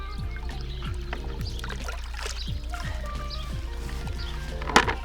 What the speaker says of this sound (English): And I should take some of the water from the pond.